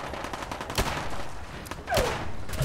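Pistol gunfire in the Fallout 4 video game: a few separate sharp shots spaced about a second apart over constant game background noise, with no voices.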